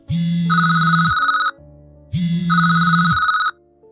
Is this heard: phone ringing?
yes